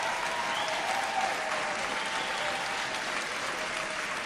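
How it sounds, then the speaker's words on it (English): An audience applauds at a spring sports awards show honoring girls lacrosse All-CIF players, producing a dense, even wash of clapping that holds at a steady level from start to finish with no voices. "Let's give a round of applause for the girls lacrosse All-CIF first team."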